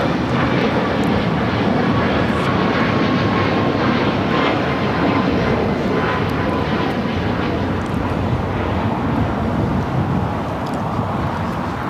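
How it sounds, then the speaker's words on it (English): An Alaska Airlines airliner takes off at LAX, bound for Guatemala City. Its jet engines make a loud, steady roar that stays strong for the whole twelve seconds with no voices over it. "That was Alaska Airlines heading to Guatemala City, flight 1353"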